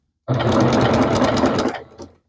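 A sewing machine stitches through a quilt under repair in one close, loud burst of rapid needle strokes lasting about a second and a half before it stops.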